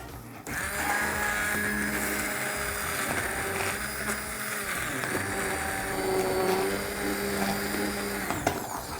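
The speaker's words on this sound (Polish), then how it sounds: "Cukinia już się ugotowała za pomocą blendera. Blendujemy." A blender whirs steadily and loudly for the whole stretch, blending cooked zucchini soup, a constant motor drone with a slight shift in pitch partway through as the contents churn.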